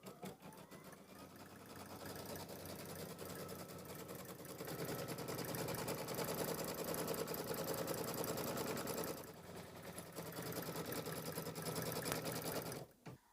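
An embroidery machine stitches a placement line for batting on a hooped mini quilt, a rapid mechanical needle chatter that runs steadily, grows louder midway, pauses briefly, then resumes before stopping, close and alone.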